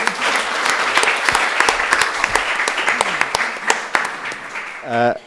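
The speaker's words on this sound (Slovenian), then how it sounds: "en aplavz prosim lepo, no." Audience applause for MEP Tanja Fajon at a youth event on the future in the EU, steady dense clapping for about five seconds, ending in a brief burst of voice.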